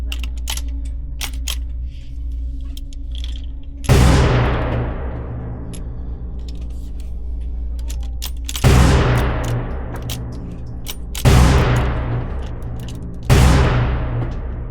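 Four loud, close gunshots from a Rossi R92 lever-action rifle in .454 Casull firing Magtech 260-grain full metal jacket rounds, spaced several seconds apart, each sharp crack trailing into a long ringing decay over quiet ambient background.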